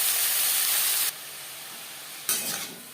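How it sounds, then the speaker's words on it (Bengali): Snake gourd frying lightly in a wok, a loud close hiss of oil that drops away midway, then surges briefly and fades again. "3-4 মিনিট চিচিঙ্গা হালকা করে ভাজা হয়ে গেছে।"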